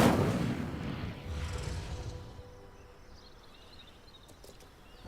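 Incendio fire spell cast in the video game Hogwarts Legacy, a loud whooshing burst of flame that fades over about two seconds into a quieter lakeside ambience with faint bird chirps.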